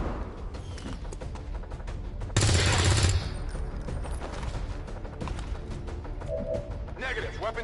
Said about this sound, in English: Burning through ammo fast. Yeah, someone's getting shot.